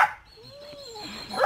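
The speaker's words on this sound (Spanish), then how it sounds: "Y los perros ya se enlocaron." Dogs bark and yip excitedly at a farm where wild boars are kept, with a short whining call between two sharp barks, fairly close.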